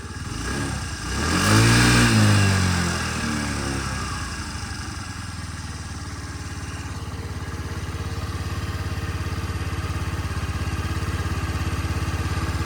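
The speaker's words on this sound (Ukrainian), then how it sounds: "Чистенько, гарно працює двигун" A carburetted Honda Dio AF-62 scooter engine revs briefly, then settles into a steady, close idle that runs alone for the rest of the clip.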